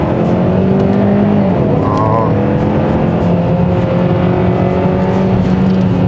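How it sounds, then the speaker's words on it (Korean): A 2021 Hyundai Sonata N Line engine revs hard and roughly on a winding road, its harsh, throaty drone rising and falling steadily throughout with no talking. "엔진 소리가요, 거칠어요"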